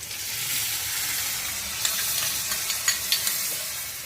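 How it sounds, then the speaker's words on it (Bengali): Loud, steady sizzling of onions with ginger-garlic and spice paste frying in a hot pan for a mutton liver curry, with a few sharp clicks and scrapes of stirring near the end. "ভালো করে মশলাটা ভাজা ভাজা করতে হবে"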